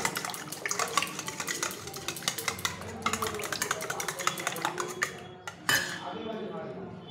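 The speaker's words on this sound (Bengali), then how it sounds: "ডিমটাকে ভালো করে ফেটিয়ে নেব" A whisk or fork beats two eggs in a bowl for cupcake batter, making rapid, rhythmic clinks and scrapes against the bowl. The strokes repeat close by, with a short pause near the end.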